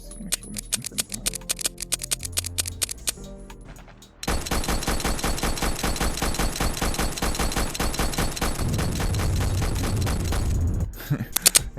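An infinite gun blasts away inside a VR video game, unleashing a dense, loud stream of rapid automatic fire that runs nonstop for about seven seconds after a short stretch of lighter tonal game sounds, then cuts off abruptly.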